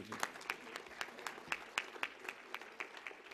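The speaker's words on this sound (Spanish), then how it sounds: "Les pido que les demos un aplauso" A few people clap at a forum, sparse and faint with distinct individual claps in a loose, roughly regular rhythm rather than a full crowd ovation.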